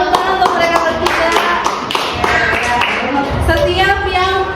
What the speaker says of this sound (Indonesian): Tepuk tangan untuk mereka bertiga.